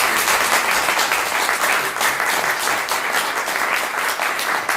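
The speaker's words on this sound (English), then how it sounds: "So one last round of applause for our group." A live audience gives a string quartet one last round of applause, with dense, steady clapping that stays loud and continuous for the whole stretch and no voices over it.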